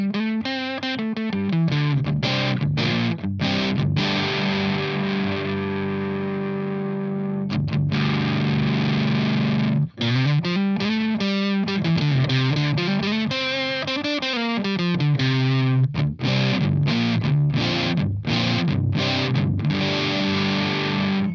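Electric guitar with single-coil pickups played through a Boss HM-3 Hyper Metal distortion pedal, loud, heavily fuzzed chords and riffs in choppy bursts with short gaps, alone throughout.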